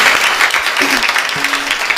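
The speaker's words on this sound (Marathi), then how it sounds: "जोरदार टाळ्या वाजवा त्यांच्यासाठी." Listeners at a Marathi kirtan devotional gathering clap loudly for the singers and drummer. The applause is close and dense in a short burst, with a faint tonal trace behind it.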